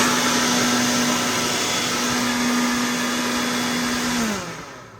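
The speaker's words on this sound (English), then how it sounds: "I got my Ryobi air blower" A Ryobi air blower roars steadily as it blows debris out of the fan of a Rinnai RL75 water heater, loud and constant with a humming tone, then winding down at the end.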